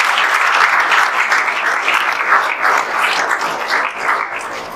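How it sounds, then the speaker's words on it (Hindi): Loud, sustained applause from a crowd of students at a results celebration, steady clapping filling the whole clip with no speech over it. "एक बार जोरदार ताली फिर से बजा दीजिए"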